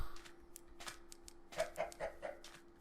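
Minecraft chickens make a handful of short clucks in quick succession near the end, fairly close and moderately loud over a steady low game hum.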